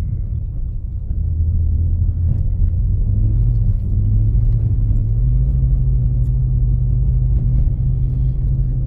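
A BMW drifting on a snowy winter road, its engine a loud, steady low rumble that swells and holds a droning tone throughout, close by with no talk.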